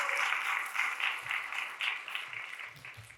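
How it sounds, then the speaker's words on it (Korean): A church congregation at a Korean youth worship service applauds in welcome for a missionary, a dense wash of clapping that rises and falls in waves, with no voices over it. "큰 환영의 박수"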